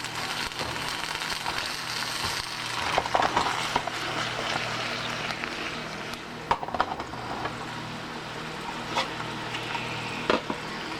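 Cut zucchini fries in extra virgin olive oil in a pan, a low steady sizzle with occasional clinks and scrapes of stirring against the pan, moderately quiet and without talk.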